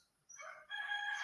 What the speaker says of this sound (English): surrounded by roosters